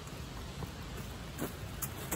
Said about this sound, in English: kind of nice hearing the sounds of the rain this morning